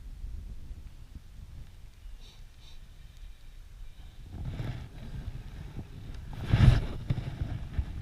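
Strong wind buffets the microphone on a fishing outing by the Moksha river, a low, rumbling roar that swells into heavier gusts partway through and peaks in one loud blast before easing slightly.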